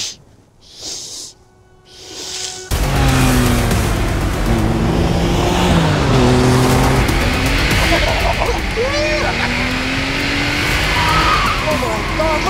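Air-cooled Porsche 911 Carrera 2.7 RS driving past, a loud raspy engine note that bursts in after a few seconds of quieter sound, revving up and down with rising and falling pitch, near and dominant.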